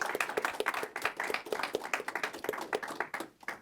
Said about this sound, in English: Round of applause for Kim.